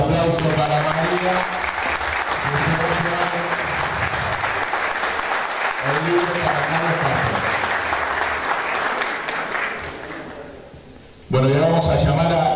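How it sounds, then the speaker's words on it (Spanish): Loud, sustained applause from an audience at a book presentation ceremony in San Rafael, with a voice speaking over it throughout, fading briefly near the end before surging back. "Fuerte el aplauso para María"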